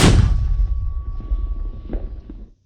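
A single heavy boom of a mortar firing at the very start, with a long rumbling decay trailing off over a couple of seconds and no talk.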